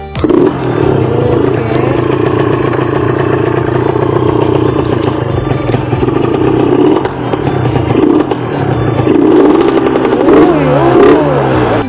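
Yamaha 125Z two-stroke motorcycle engine running close by, a buzzy, rattling idle that swells into several revs and falls back, loud throughout with a brief voice in the background.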